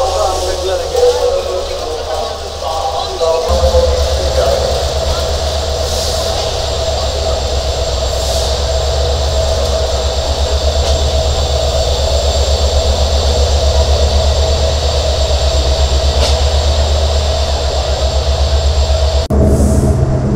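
The Sundarban Express train runs from Dhaka to Khulna across the Padma bridge. It makes a loud, continuous rumble and rattle from inside the carriage, with a steady roar that barely changes throughout.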